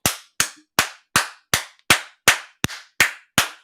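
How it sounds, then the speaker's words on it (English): One person clapping hands in ten sharp, evenly spaced claps, each crisp and close with a quick fade and near silence between them. "I have to clap on that."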